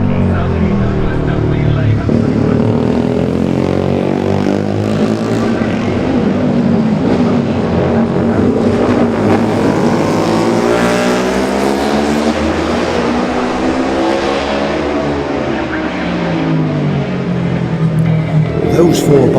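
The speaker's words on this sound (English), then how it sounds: "Those four bikes were number 41, the Sealy of Meredith Owen" Classic racing motorcycles in the Junior race at the 2018 Classic TT roar past, engines swelling and fading in pitch as they go by, heard over a commentator's continuous talk.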